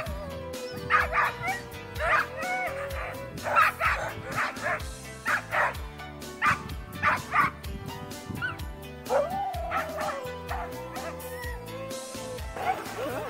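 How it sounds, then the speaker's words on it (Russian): Husky sled dogs bark and yip repeatedly in a lively, irregular chorus while being harnessed for a dog-sled ride at a husky base, with some whimpering and a person speaking at times. "Вон, запрягают нам собачек."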